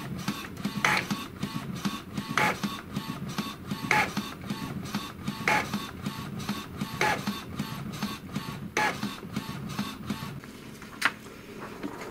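An Epson TX650 inkjet printer runs steadily, its print head whirring back and forth with regular clicks and shuttling passes, no voices.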